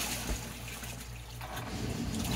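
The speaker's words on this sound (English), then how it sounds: "So it's kind of a pulsating agitation." An RV portable washing machine agitates soapy water with its lid open, giving a steady pulsating churn and slosh with a low rhythmic hum underneath, close and continuous.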